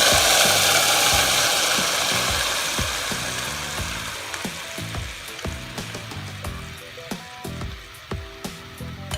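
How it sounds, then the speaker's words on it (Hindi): Cumin seeds roast in hot oil for vegetable raita, a bright crackling sizzle that slowly settles as rhythmic clicks of stirring tap against the pan. "अब देख रहे हैं ज़ीरा अच्छे से भून चुका है।"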